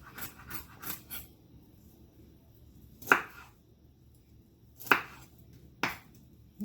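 A knife chopping vegetables into small pieces on a cutting board for stir-fried cabbage: a few quick cuts at first, then single sharp chops spaced out in a quiet kitchen.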